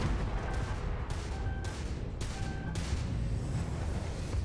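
Starfield gunfire cracks out in repeated sharp bursts roughly every half second to second, loud and punchy over a rumbling low background, with no voices over the shots.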